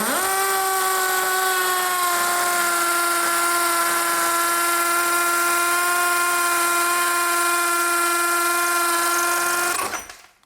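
A Bosch GSB 185-LI cordless brushless hammer drill in hammer mode at speed 2 runs an 8 mm bit steadily for about ten seconds with a high, even whine, then winds down and stops.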